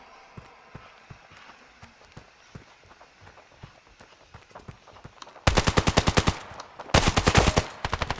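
Gunfire in the Standoff mobile shooter starts as sparse footsteps and scattered single shots, then breaks into loud, rapid automatic bursts, two long strings and a short trailing burst.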